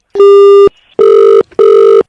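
A telephone rings loudly and alone in three bright electronic bursts, each about half a second long with short gaps between them.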